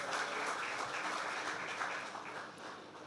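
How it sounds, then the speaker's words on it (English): Sustained applause from a conference audience for a distinguished guest speaker, a dense, even clapping that holds steady and then fades slightly, with no voices over it. "another round of applause"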